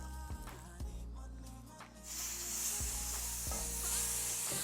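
Beef tenderloin searing in beef and bacon tallow on a cast iron top: a loud, steady sizzle that swells up after a brief quieter start, with a few clunks of utensils against the pan.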